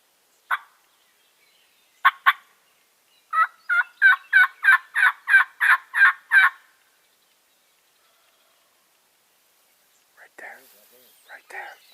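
A wild turkey calls during a spring hunt in Nebraska with a rapid series of about a dozen evenly spaced, rising pulses, clear in the open air. A few isolated calls come before it and scattered softer sounds follow.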